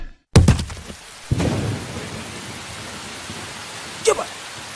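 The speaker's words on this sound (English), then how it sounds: "I told you there's a storm coming." A thunderstorm on Modimolle Mountain gives steady rain hiss with sharp thunder cracks. There is a loud clap near the start, another rumble soon after, and a shorter crack late in the clip.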